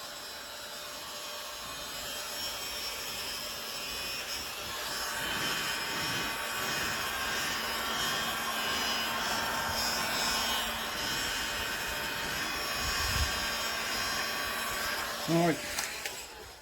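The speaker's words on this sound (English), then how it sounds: "I'm just heat gunning the other one off." A heat gun blows steadily for a long stretch while removing a side repeater from a Jaguar XK8, a loud continuous airy whir with a short voice and a few knocks near the end.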